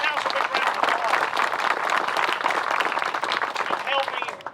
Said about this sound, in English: give the City Council a big round of applause